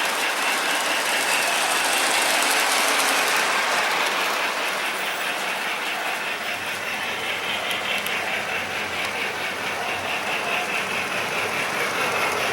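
A model train runs around a layout's reversing loop, shuttling cars back and forth, giving a steady, close clicking and whirring mechanical rumble with rhythmic track clatter throughout, no talking over it.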